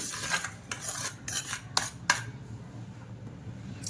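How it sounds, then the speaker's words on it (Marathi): A utensil scrapes and clinks against a bowl in a quick run of stirring strokes through corn cheese ball batter, then stops, leaving quiet room noise. "याच्यात घालणारे चांगलं मिक्स करून घ्यायचंय"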